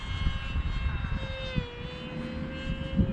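Aeroscout S21.1M model airplane lifting off and flying on a breezy day outdoors, a thin electric motor whine rising partway in over gusty wind rumble, with faint talk.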